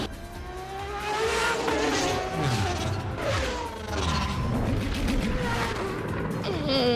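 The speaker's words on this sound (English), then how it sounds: "footage of a pod racing game that's in development in Unreal Engine 5" Pod racers from a Star Wars pod racing video game built in Unreal Engine 5: high whining engines sweep past with rising and falling pitch, overlapping roars and Doppler swoops, loud and continuous.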